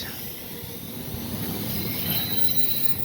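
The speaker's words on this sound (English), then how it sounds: "That's a passenger train" A passenger train rolls through Netcong station in New Jersey with a steady rumble and a high wheel squeal running over it. The sound is sustained and fairly loud, and no one talks.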